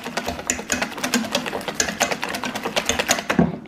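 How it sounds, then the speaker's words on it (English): A whisk beats sweet Dutch baby pancake batter in a bowl, a fast, steady run of close, loud clicking strokes that continues throughout with no talking. "we're gonna give it a good whisk now"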